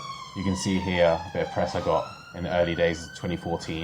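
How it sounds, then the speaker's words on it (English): A siren wails faintly in the background, a steady drawn-out tone that rises slowly while someone talks over it throughout. "excuse the sirens if you're picking those up"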